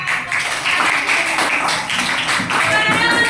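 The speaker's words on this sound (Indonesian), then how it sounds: "Tepuk tangan buat kelompok 4" A Grade 5 primary classroom at SDN Petapan 1 claps for a student group, a dense, steady patter of many small hands filling the room, with voices mixed in.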